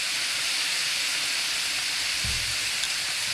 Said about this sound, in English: That sizzle is what you want to hear, guys. That means it's going to sear up real nice for you.